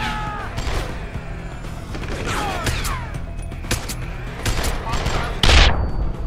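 Heavy gunfire from a big gun in Deus Ex: Human Revolution comes in rapid bursts that crack over a busy combat din. A loud blast lands near the end.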